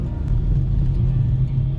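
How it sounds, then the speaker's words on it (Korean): A car speeds along a road in Russia, its low, steady engine and tyre rumble close and continuous, with no voices. "속도를 내는 차들이 있어요."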